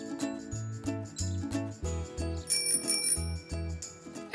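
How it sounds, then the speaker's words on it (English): Bright cartoon bicycle bell rings repeatedly in quick dings over a bouncy tune, the bell tones carried along in a steady rhythm with no talking. "My bike's got a bell, just like yours."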